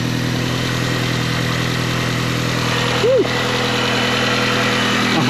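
Mini car engine idling steadily on its first start, a close, even low-pitched rumble with a constant mechanical hum and one brief chirp partway through.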